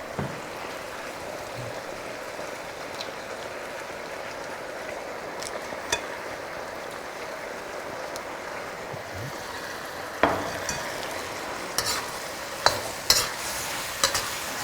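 Leaves frying in a pan while being stirred, a steady close sizzle with occasional scraping and clinking of the utensil against the pan, which grows busier toward the end.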